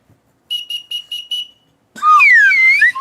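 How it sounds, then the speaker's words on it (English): A small dog whistle gives five short, shrill, evenly spaced pips, then after a brief pause a louder, longer warbling sweep, close and alone without talk. "I have this like little dog whistle thing that is really annoying, and the dogs don't like it."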